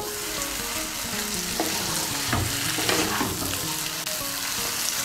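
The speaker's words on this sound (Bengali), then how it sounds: "বেগুনগুলোকে মিশিয়ে নেব আলুর সঙ্গে।" Fried eggplant pieces are stirred into potatoes in a pan for a Bengali vegetarian curry, with a continuous close sizzle under repeated scraping and clacking of the spatula against the pan.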